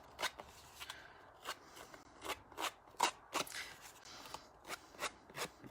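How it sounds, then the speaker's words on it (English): Repeated short scraping strokes, about a dozen crisp rasps spaced irregularly, like scissor blades dragged along the edge of card, close and fairly quiet. "I'm going to drag them around the edge of my cardstock"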